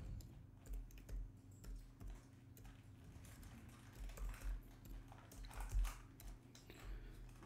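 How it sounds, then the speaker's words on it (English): Keys tap on a Surface Pro keyboard as a Wi-Fi password is entered: soft, quiet clicks in short irregular bursts. "and then type in the password."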